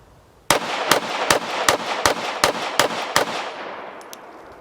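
A Shadow Systems XR920 pistol fires eight loud, sharp shots in a fast, even rhythm, each with a short ringing tail, followed by a couple of faint clicks.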